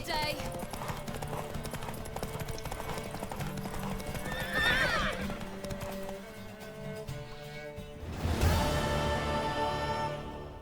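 Horse hooves clip-clopping at a gallop in The Witcher 3: Wild Hunt, a steady drumming under game dialogue, followed by a loud, close whinny near the end.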